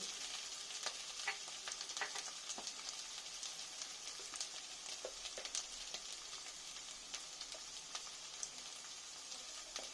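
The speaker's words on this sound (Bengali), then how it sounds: "একটু ভালো করে ভেজে নেব।" Stingray fish fries in a pan with ginger and garlic, a soft, steady sizzle dotted with small pops and crackles throughout, with no talking.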